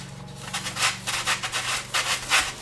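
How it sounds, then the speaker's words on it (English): A small, inexpensive electric sander with hook-and-loop pads works a part of a Midwest Aerostar 60 model airplane build, giving a steady buzzing rasp that swells and fades in quick strokes over a low motor hum. "I got a little cheap Amazon sander."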